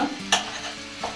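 Pieces of meat and liver fry with onion in a pan for bulgur, a soft steady sizzle broken by a couple of short stirring scrapes, close and alone.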